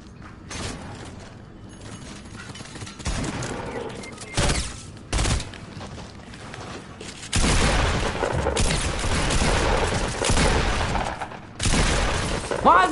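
Bursts of gunfire in a shooter video game, rattling volleys and sharp shots clustered in dense stretches with brief gaps, loud and close throughout, with mechanical clatter between.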